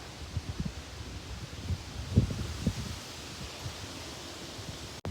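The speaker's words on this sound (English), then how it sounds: "The wind is picking up" Gusty wind rising as a storm approaches outdoors, a soft broadband rush with buffeting gusts and rustling bumps against the microphone, fairly faint and with no talking.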